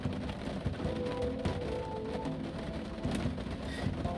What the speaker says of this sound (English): It is raining right now. You guys probably can hear that.